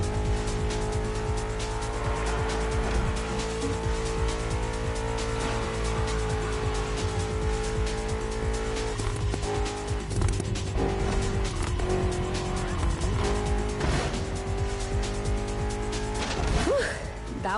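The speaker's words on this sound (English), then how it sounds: "You've probably recognized the car you're driving. It's the M5 F90 CS" BMW M5 F90 CS driven in The Crew Motorfest, with a steady engine drone and tire squeal that run continuously throughout. Shifting tones and a swelling rev surge near the end.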